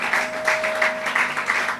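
Applause in a church service, a steady spread of hand claps at moderate volume with an even patter across the short stretch and no one talking over it.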